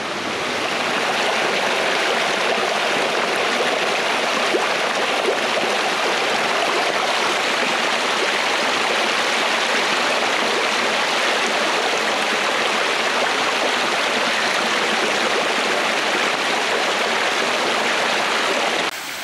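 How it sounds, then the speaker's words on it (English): A waterfall in an Alaskan rainforest roars in a steady, dense rush of falling water, loud and unbroken throughout. "He's in a rainforest next to a waterfall."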